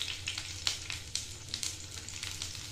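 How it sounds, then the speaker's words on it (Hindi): Chopped onions frying gently in a pan for a paneer dish, a steady soft sizzle with faint crackles and a few louder pops, close and alone with no talking. "पियाज को ये भाजी नबा"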